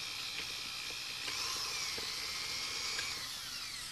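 A high-pitched drill whines steadily at close range, with faint scraping and small clicks as the bit grinds back and forth.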